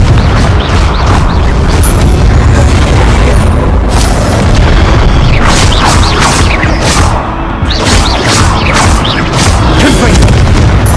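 The Confringo fire spell in Hogwarts Legacy sets off loud, booming fiery explosions that crash and burst repeatedly in close succession throughout, with no talking.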